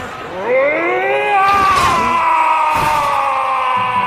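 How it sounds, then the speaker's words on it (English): A man lets out a long, loud, anguished scream that rises and then holds a strained, sustained wail for several seconds with a few harsh breaks in it, heard in an animated courtroom drama. "That's the scream I heard that day."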